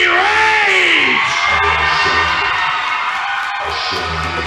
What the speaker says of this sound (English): The crowd is on their feet, Dallas. They are ready for their champion.